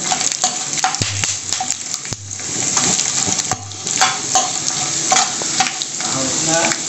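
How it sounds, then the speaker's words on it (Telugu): Peanuts and mustard seeds sizzle steadily in hot oil in a pan, a dense continuous frying crackle with occasional stirring clinks of a utensil, close and fairly loud throughout. "పల్లీలు వేగిన తర్వాత తెరమాత గింజలన్నీ వేసుకుందాం. ఇవి కూడా కొద్దిగా వేగనిద్దాం."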